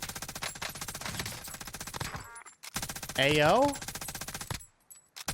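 Mounted gun firing in Call of Duty Warzone, a loud rapid burst of game gunfire under constant talking, with a sharp electronic sweep in the middle.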